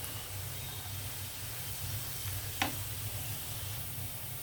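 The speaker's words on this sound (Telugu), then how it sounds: "వెల్లుల్లి ఇలా వేగే చూసారా" Garlic fries in oil for a chutney, making a quiet, even sizzle that runs continuously, with one brief louder tick partway through.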